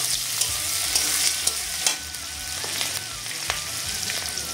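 Chopped onion fries in hot oil with bay leaf and dried red chillies, a close, steady sizzle with occasional crackles and stirring scrapes.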